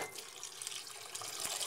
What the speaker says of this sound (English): I'm going to go ahead and fill it up with about 12 cups of water.